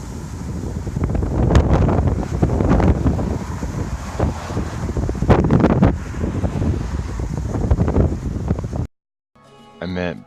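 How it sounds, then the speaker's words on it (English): Strong gusty wind buffets the microphone on a ride around the north side of Oahu near Honolulu, a continuous loud rumble with surging gusts that cuts out near the end before a brief voice. "It's still pretty windy."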